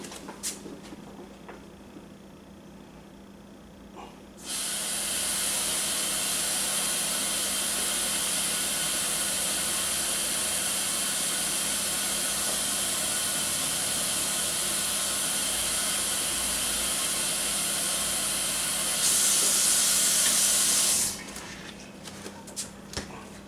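Tap water runs steadily for about seventeen seconds during home brewing of a Brewer's Best Orange Shandy beer kit, a loud, continuous broadband rush that starts abruptly, grows a little brighter near the end and then cuts off.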